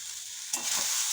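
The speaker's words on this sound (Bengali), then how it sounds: "আমি খুব অল্প তেলে ভাজছি, এরকমভাবেই আপনারা কিন্তু ভেজে নেবেন মশলাটাকে" A spice mixture with white sesame seeds frying in a little oil, soft crackling sizzle that grows louder halfway through as something is stirred in, with no talking.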